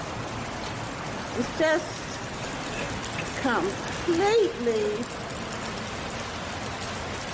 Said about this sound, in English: And it's steady raining, steady drip.